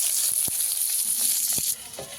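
Large fish pieces frying in hot oil in a home kitchen, a steady dense sizzle with a few soft clicks of stirring.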